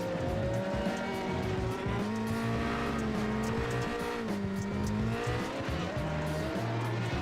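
Radical prototypes and Legacy Silverado trucks race on a new iRacing rallycross layout, a loud, continuous engine drone with shifting pitch, gear changes and intermittent tire squeal, with no talk.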